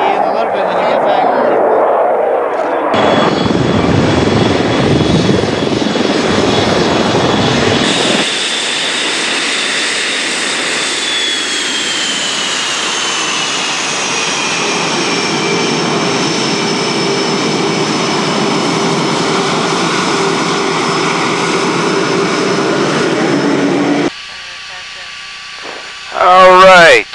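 Blue Angels jet aircraft taxi with engines whining and roaring steadily at close range, a high rising tone sustained for a long stretch, with talking mixed in.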